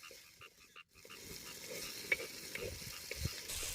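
Marinated apple snails frying lightly in a pan give a soft, steady sizzle with faint stirring scrapes, heard alone at low level after a brief quiet gap.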